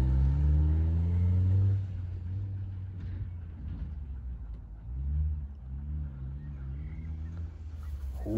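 A rally car engine at speed on a field track at Dunnion's Rally, a steady droning rumble that holds loud at the start, dips, then surges again as the car pushes around the circuit.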